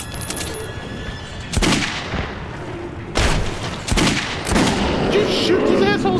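Gunfire in the video game Metro 2033 Redux, loud close bursts of shots and booms crashing over a dense rumbling backdrop, with several sharp blasts in quick succession.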